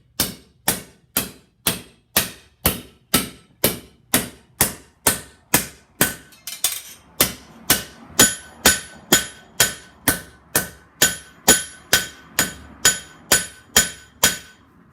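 A hammer beats on metal against an anvil while forming a piece to cast a bronze anvil, striking in steady, evenly spaced, loud ringing blows, about two per second, with no talk.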